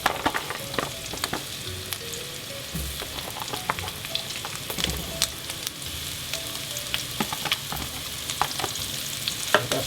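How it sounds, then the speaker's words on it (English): Onions and spring onions fry in a pan for home-grown callaloo with bacon, a steady sizzle broken by scattered clicks and scrapes of stirring, close and alone without speech. "That's our onions going in, along with our spring onions."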